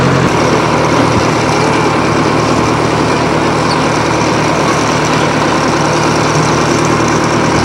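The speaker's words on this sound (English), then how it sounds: "You having fun on the tractor ride?" A tractor engine runs steadily during a tractor ride, a loud continuous drone with no letup and no talk over it.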